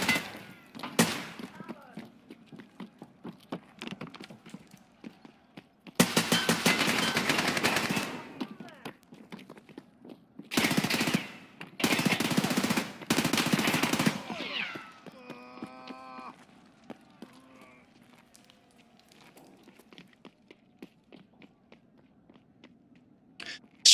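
Video game gunfire in a search-and-destroy style match: single shots and several dense, loud automatic bursts between quieter stretches, followed by a short tonal in-game effect.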